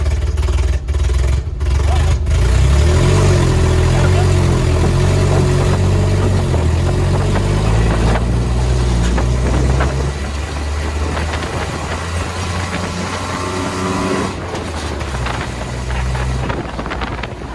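An old budget 4x4 rat rod truck idles roughly after being fitted with the wrong fuel pump. A loud, close, continuous engine rumble is mixed with wind buffeting on the microphone, easing slightly in the second half, with no talking.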